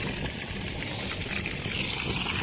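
Water gushes steadily into a barrel, a continuous broadband rush that stays even and fairly loud from start to finish with no voices over it.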